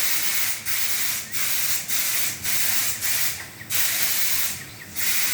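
Spray gun hissing in repeated bursts while painting kitchen surfaces, each loud broadband spray lasting about half a second to a second with short gaps between, close and alone.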